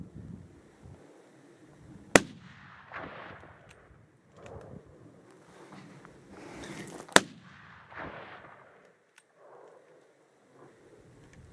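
Two sharp rifle shots ring out during a late-season mule deer hunt in Nevada, each a sudden crack several seconds apart over a quiet outdoor background with faint rustling.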